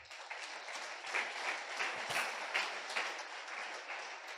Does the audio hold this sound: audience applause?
yes